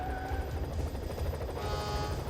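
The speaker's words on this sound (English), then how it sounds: "a helicopter just flew under a bridge" A helicopter thrums steadily through a highway movie chase scene, flying under a bridge, its rotor beating with a constant pulsing chop and engine whine, close and loud with no voices.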